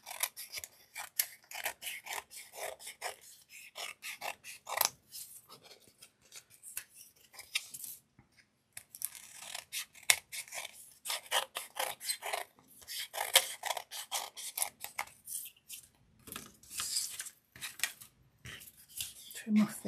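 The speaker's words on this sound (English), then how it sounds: "Oh, and then I'll turn it over and trim that." Scissors snipping and trimming in quick irregular bursts of crisp clicks, close and clear, with brief pauses between runs of cuts.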